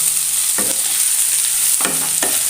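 Potatoes and a ground roasted spice mix tossed into a hot pan, with a steady loud frying hiss throughout and a few short scraping stirs, close by and without voices.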